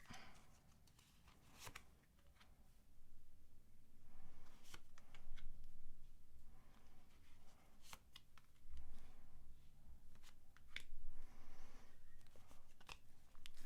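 Tarot cards are shuffled and drawn in a series of papery riffles, slaps and soft shuffling bursts, irregular and close, with no voices.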